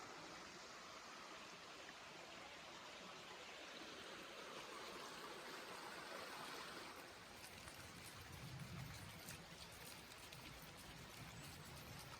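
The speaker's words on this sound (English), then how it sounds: "Waterfall, but just drips right now." Creek water along the Ozark Highlands Trail trickles from a waterfall reduced to drips, a faint, steady outdoor babble with soft patter throughout.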